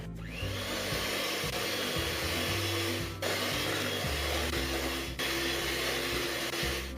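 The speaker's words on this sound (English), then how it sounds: "So I'm going to start the mixer now." An electric mixer beats butter and icing sugar into buttercream, running as a steady loud whir with a fluctuating low motor tone, briefly cutting out twice before resuming, with no talking.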